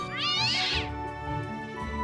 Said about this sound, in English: Not the kitty.